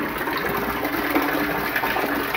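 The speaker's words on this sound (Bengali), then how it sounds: "এখানে ট্যাঙ্কির মধ্যে জল পড়তেছি" Water pours from a pipe into a water tank with a steady, loud, continuous rushing splash, close by and unbroken throughout.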